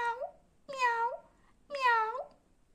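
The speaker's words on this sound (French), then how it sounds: "T'es trop lourd, Pompon, tu miaules trop." A cat meows three times in a row, each call clear, close and drawn out with a rising-then-falling tone, separated by short quiet gaps.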